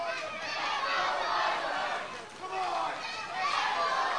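Crowd noise at a wrestling event, a loud continuous roar of many voices with swells of shouting and chatter, under a commentator talking.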